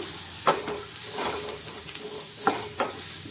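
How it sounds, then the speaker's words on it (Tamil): Boiled baby potatoes tossed with masala in a pan, with a steady sizzle broken by several distinct scraping stirs, each stroke sounding close and short. "மசாலா போட்டு நல்லா உருளைக்கிழங்குல பிரட்டிட்டோம்"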